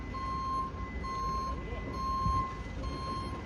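A truck backs up during a company driving test in Thailand, its reverse alarm sounding four steady evenly spaced beeps over a low engine rumble, with someone talking faintly beneath.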